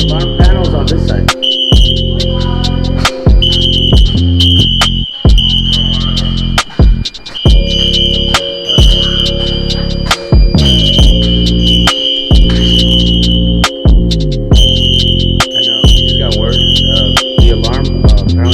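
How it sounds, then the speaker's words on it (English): A building fire alarm sounds continuously at close range, its loud repeating electronic tone and high whine running throughout with brief interruptions, while someone speaks over it. "The alarm apparently came from unit 107."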